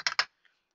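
A few quick keystrokes on a computer keyboard, two or three close clicks followed by a faint tap, heard near and alone.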